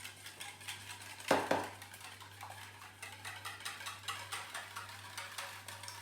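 Eggs and cinnamon are mixed for French toast: a utensil taps and clicks lightly against a bowl in a quick, soft rhythm, with one louder clatter early on.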